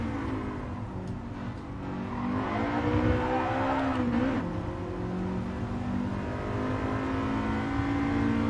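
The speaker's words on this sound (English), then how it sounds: "I kind of hear a little bit of a VTEC crossover" A stock Honda Integra engine in the Gran Turismo Sport racing game revs steadily with a rising, whirring tone and a brief pitch shift midway suggesting a VTEC crossover, sustained and loud without speech.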